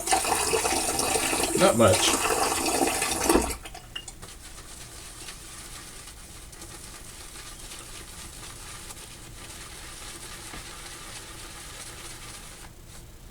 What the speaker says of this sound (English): I need a little bit of water.